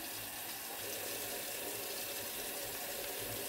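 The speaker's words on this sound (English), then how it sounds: "Make sure you lather your wrists, you interlace your fingers together to wash in between your fingers" Hands being washed under a running tap, with a steady, fairly quiet wash of water hiss that continues unbroken throughout, and no talk.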